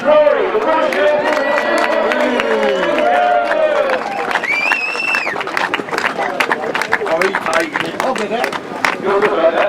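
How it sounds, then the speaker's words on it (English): Loud crowd cheering and whooping at a British grasstrack motorcycle racing championship, with an announcer's voice running over the top and bursts of shouting throughout. "Could we have a big cheer, please?"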